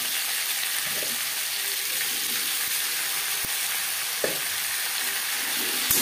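Onion and tomato fry in a pan with potatoes for a snakehead fish curry, giving a continuous, even sizzle broken by a few sharp clicks of a utensil against the pan.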